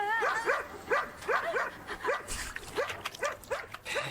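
A dog in an advertisement barks in a quick, regular series of sharp yelps and bow-wows, close and fairly loud, with a brief whimpering tone mixed in.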